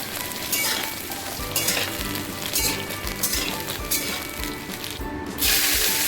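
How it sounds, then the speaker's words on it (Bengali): Eggplant pieces sizzle steadily as they fry in mustard oil, a continuous loud crackle with brief surges, heard close up with no talk over it. "যেহেতু বেগুন একটু নরম সবজি তাই বেগুনটা সর্ষের তেলে ভেজে আমি তুলে রাখছি"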